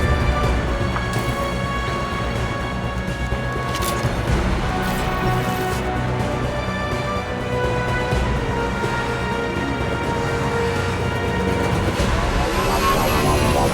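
A gunship in Mass Effect 2 roars overhead in a dense, loud game mix of continuous aircraft engine noise, with crashes and impacts layered throughout.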